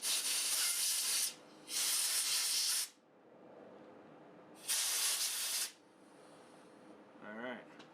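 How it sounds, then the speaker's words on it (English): Compressed air hose blasting off a Kohler K Series carburetor part during cleaning: three loud, close bursts of hissing air separated by short pauses, then quieter handling and a brief faint voice at the end. "I'm going to take my air hose and blow it out, blow it off."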